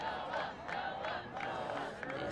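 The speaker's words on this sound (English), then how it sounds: "The student section cheering for the trainer" A high school student section cheers at a boys varsity soccer game, a distant crowd roar with shouts rising and falling steadily throughout.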